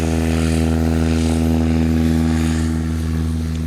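A Cub-class light plane runs its propeller engine at high power for takeoff in a STOL competition, a loud, steady, close drone with strong engine harmonics throughout.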